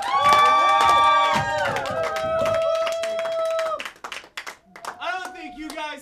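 Cheering voices and clapping rise from a live wrestling crowd, loud and busy at first, then thinning into scattered shouts and claps with an announcer talking.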